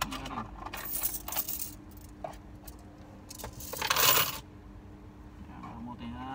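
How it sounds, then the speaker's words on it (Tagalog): Coins drop and clatter out of a 2006 Honda Civic dashboard during panel removal, several sharp metallic jingles with one louder cascade midway, close up amid quiet handling noises. "Mga barya."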